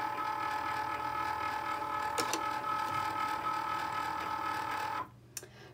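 A Cricut Maker cutting machine runs with a steady mechanical whir and a faint rhythmic ratcheting, a brief click partway through, then stops near the end, leaving quiet with one small tap.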